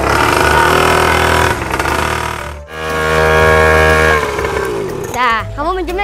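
Motorcycle engine starting and revving up close, a loud steady engine drone with a brief dip, then voices talking over it as it idles.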